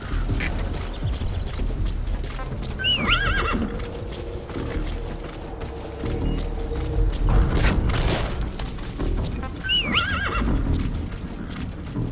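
Horse in Metal Gear Solid V neighing twice, each whinny a shrill rising-falling call, over steady clip-clop of hooves and rumbling game ambience throughout, fairly loud and close.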